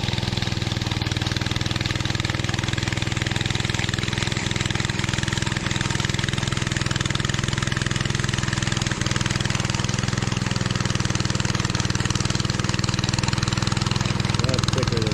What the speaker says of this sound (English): There's the power trowel.